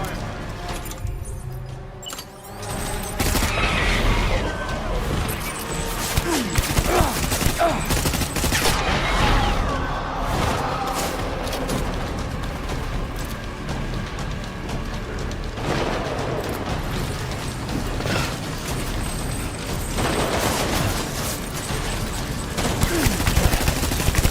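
Sustained gunfire in Death Stranding, dense crackling volleys and shots mixed with booming impacts and clatter, loud and continuous throughout with voices heard amid the battle.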